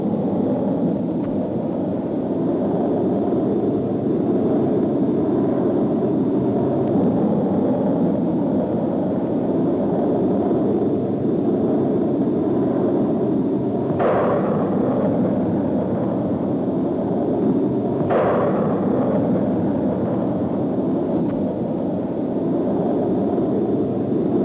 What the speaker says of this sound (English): The pods are automatically jettisoned after the rockets are fired.